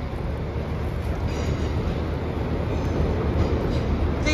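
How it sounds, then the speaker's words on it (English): An express train to Manchester Airport passes through York station, a steady loud rumble of wheels and carriages that fills the whole stretch without a break. "The 1516 Transfer Down Express service to Manchester Airport."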